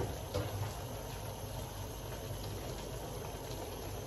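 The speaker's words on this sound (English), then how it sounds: "just let the scallions simmer down from the heat in the pot" Pot of fish and okra stew with scallions simmering after the heat is turned off, giving a steady, close bubbling hiss that stays even throughout with no voices.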